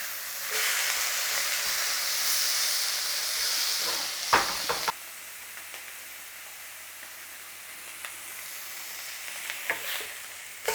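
Burgers sizzle and fry steadily in a hot pan, a loud continuous hiss with a few clatters as they are flipped midway, then a quieter sizzle with small pops.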